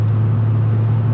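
A BMW E36 323i, warmed up, drives along with a steady, loud low engine drone that holds an even tone throughout, with no gear changes or revving.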